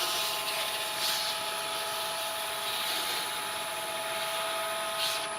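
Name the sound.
sanding a turned wooden mushroom on a wood lathe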